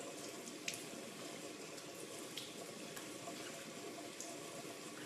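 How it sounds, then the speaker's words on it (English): Steady running water splashes into a sink as a face is rinsed, a constant moderately quiet wash with a few small splashes and no talking. "Now I'm going to rinse thoroughly."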